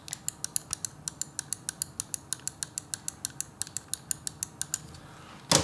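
Omron 20M switches on a gaming mouse clicking in a steady series of about two dozen sharp, close clicks, then a brief rustle at the end.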